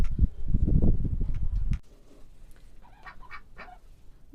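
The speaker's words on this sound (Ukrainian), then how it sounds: "наші качки з самого ранку вже на подвір'ячку бігають" A loud burst of close domestic duck quacking and honking in a farmyard in the morning, then quieter, scattered calls further off.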